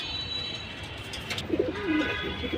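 A silver pigeon coos softly nearby, a few low, rolling coos in the second half over faint background hum.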